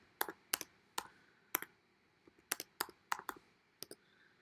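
Keys click on a computer keyboard nearby, a dozen or so sharp, separate taps in a loose, irregular rhythm against a quiet background.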